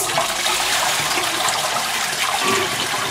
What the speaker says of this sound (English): just push the button and push the flush and make sure it's all working